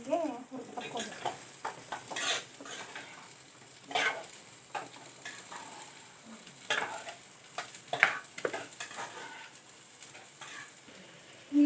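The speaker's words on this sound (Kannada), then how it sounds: "ಇದೆಲ್ಲ ಎಣ್ಣೆ ಹಾಕಿ ಹುರ್ಕೋಬೇಕು." Cut potatoes frying in oil in a kadai, stirred with irregular scrapes and clinks over a soft, intermittent sizzle; fairly quiet and close.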